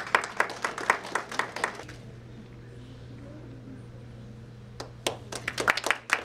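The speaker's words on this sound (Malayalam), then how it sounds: "ഒന്ന് ക്ലാപ്പ് ചെയ്യാം, ക്ലാപ്പ് ചെയ്യാം." Audience applause at an IMA highlights event, a burst of clapping for about two seconds, a quiet pause, then clapping again near the end, over a steady low hum in the hall.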